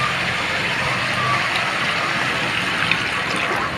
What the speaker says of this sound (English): I just need to add in some little water for the soup